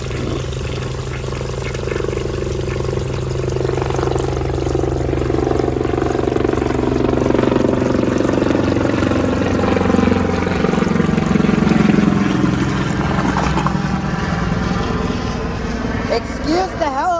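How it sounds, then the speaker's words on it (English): An aircraft, likely a helicopter, passes overhead with a loud, steady droning roar whose pitch slowly sweeps downward as it moves past, fading toward the end. "Excuse the helicopter."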